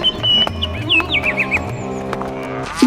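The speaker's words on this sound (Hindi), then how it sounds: "यमराज का भैंसा खेत में घुसकर फसल खाने लगा" A cartoon buffalo belonging to Yamraj wanders into a farm field to eat the crops, heard as squealing, whinny-like animal calls and a few hoof clops over steady background music.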